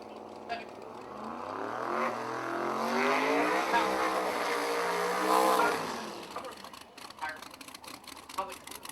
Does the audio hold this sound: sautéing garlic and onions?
no